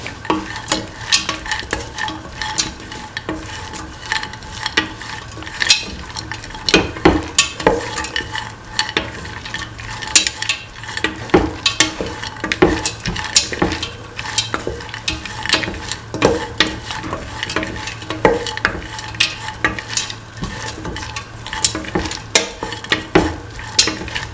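Kidney beans are stirred into a hot frying pan, with a steady sizzle under frequent scraping and clattering strokes of the spoon against the pan, close and continuous, with no talk.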